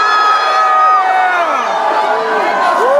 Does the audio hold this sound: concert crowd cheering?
yes